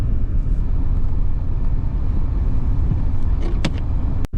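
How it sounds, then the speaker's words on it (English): Car creeping along at about 20 mph behind tandem snow plow trucks during a southern Minnesota blizzard; a steady, loud low road rumble fills the cabin, with a couple of brief clicks near the end and no talk. "we've been behind the plow trucks for a while now, doing 20 miles an hour"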